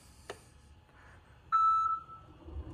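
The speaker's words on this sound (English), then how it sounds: "hear a beep" A single electronic beep from a Tesla Model X falcon wing door button, a steady tone lasting about half a second, preceded by a faint click and set against quiet background hum.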